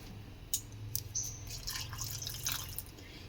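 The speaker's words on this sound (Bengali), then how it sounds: "এবার আমি এখানে আরও হাফ বাটি জল দিয়ে দেব" Half a bowl of water trickles softly into breakfast batter in a bowl, with faint drips and splashes over a low steady background, quiet and close.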